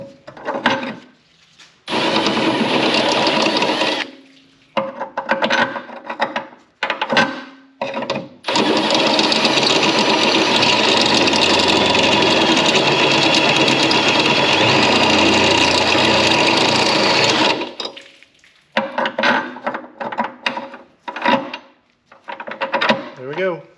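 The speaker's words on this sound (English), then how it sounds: "I'm going to be drilling the panhard rod mount, brace, whatever." A drill enlarges the bolt hole in the panhard rod mount of a 1992 Pontiac Firebird, whirring loudly and close. Several short bursts lead into one long continuous run of about nine seconds, followed by more short stop-start bursts.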